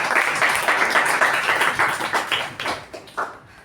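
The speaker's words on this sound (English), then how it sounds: "a huge round of applause for him as his debut" Applause from the audience at a Toastmasters club meeting, a dense burst of many hands clapping close by that keeps going, then thins into scattered claps toward the end.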